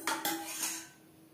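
Cooked mango dal being transferred into a pot, with two quick metallic clinks of a utensil against the cookware followed by a brief soft scraping pour, close and clear, then quiet.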